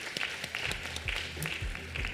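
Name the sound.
audience applause at dental congress awards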